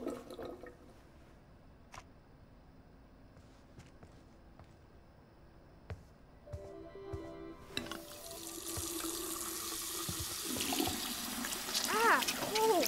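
Water running for washing in the video game Life Is Strange 2, a faucet or sink that starts partway through and then flows steadily and fairly loudly, with faint game sounds and voices around it.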